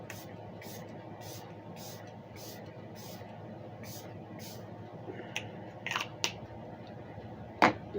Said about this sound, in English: I am going to spray all this down though.